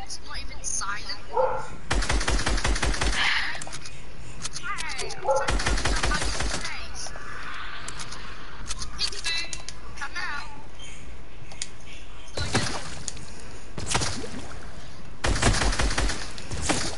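Rapid bursts of rifle gunfire in a video game crackle through repeatedly, loud and close, in several dense volleys over a steady background of game ambience.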